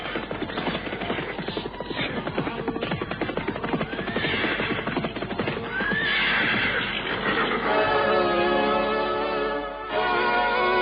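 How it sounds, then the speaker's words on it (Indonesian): A group of horses carrying riders draws near, with dense hoofbeats and repeated loud neighing and whinnying, a busy, close, continuous commotion with no talk. "melihat dari jauh datang serombongan orang-orang berkuda"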